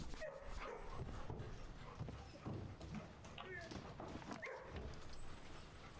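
A video game's dogs bark and whimper, short yips over hoof-like clopping and game background sounds, while a player talks throughout.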